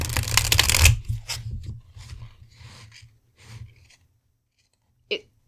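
Tarot cards riffle in a fast rattling burst, then several softer shuffling taps and slides follow, ending with one sharp snap.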